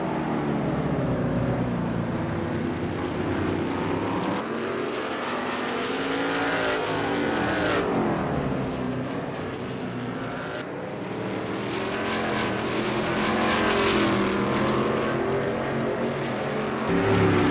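Veloce GTS-8 race car engine at Blackwood in a racing video game, a loud, continuous high-revving roar that rises and falls through gear changes and corners, with no voices.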